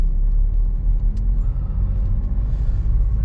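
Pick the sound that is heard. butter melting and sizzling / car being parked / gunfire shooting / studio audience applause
car being parked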